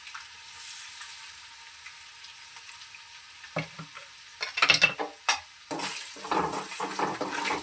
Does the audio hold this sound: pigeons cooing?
no